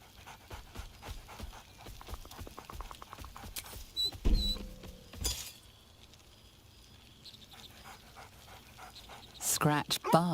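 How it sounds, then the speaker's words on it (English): A dog in the video game Baldur's Gate 3 pants in quick rhythmic breaths, with soft pattering and excited whimpery sounds layered over game effects and a few sharp clicks and thuds. "Scratch barks merrily in something like agreement."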